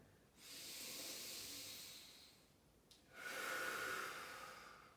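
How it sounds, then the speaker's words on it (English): Two slow, deep breaths taken during a breathing exercise, each a long breathy rush of air that swells and fades, close and quiet with no talking. "Try and get as much air into your lungs as possible."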